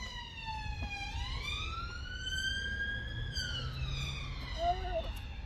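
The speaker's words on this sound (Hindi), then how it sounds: "Ambulance coming." An emergency siren wails past in a London street at Southall Broadway, its rising and falling tone sweeping across the clip over steady traffic rumble, with a brief chirp near the end.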